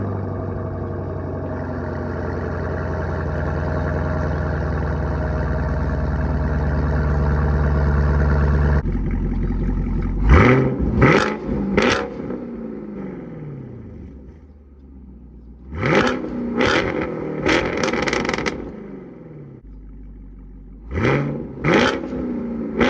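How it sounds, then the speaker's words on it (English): A 2020 Chevrolet Camaro fitted with a Borla ATAK exhaust holds a loud, droning rev, then drops and fires off several sharp blips of throttle, each rising and falling back to a rumbling idle. "we're doing an exhaust video on the Camaro"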